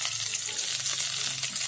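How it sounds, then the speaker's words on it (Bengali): Chopped onion frying in hot mustard oil with whole cumin seeds over medium heat, giving a steady, close crackling sizzle with no talking. "পেঁয়াজটা একটু তেলে এক মিনিট মতো একটু ভেজে নেব"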